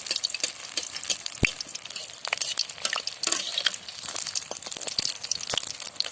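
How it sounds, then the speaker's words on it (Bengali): Raindrops land in hot frying oil outdoors while spinach-leaf chops fry, giving a continuous crackling sizzle with sharp pops and scraping stirs, close and fairly loud, with no voices. "জল এমন পড়তিছে বৃষ্টিটা তেলের মধ্যে চড়চড় করে আওয়াজ করে দিচ্ছে"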